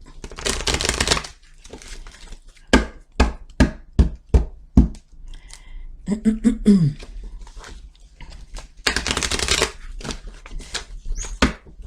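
Tarot cards are shuffled by hand in bursts of crisp riffling and tapping, close and fairly loud, between stretches of someone talking.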